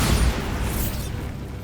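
A Bombarda spell explodes in the Hogwarts Legacy video game, a loud booming blast with a rumbling tail that fades over about a second and a half.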